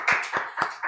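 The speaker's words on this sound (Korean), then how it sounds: "다시 한번 축하의 박수," A church congregation claps in applause during a Sunday service, a few quick clustered bursts of hand claps close by and fairly loud.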